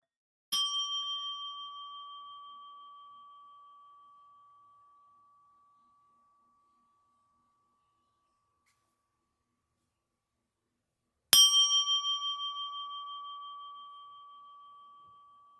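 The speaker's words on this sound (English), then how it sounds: "So I'll be sounding the bell." Meditation bell struck twice, about eleven seconds apart, each strike giving a clear, bright ring that slowly fades into silence in a quiet room.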